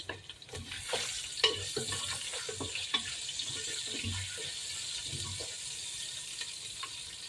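Onions and beef stir-frying in a pan for a beef and broccoli dish, a steady soft sizzle with scraping stirs and clinks of a utensil, close and moderately quiet.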